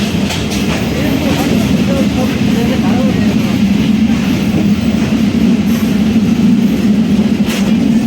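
Dhalarchar Express intercity train running between Azimnagar and Ishwardi, a steady loud rumble and rattle of the carriages with clickety-clack under continuous onboard noise.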